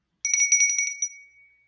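Small souvenir destination bell from an amusement park, rung in a quick run of about eight bright metallic strikes close up, then a single final ding that rings out and fades, alone with no talk.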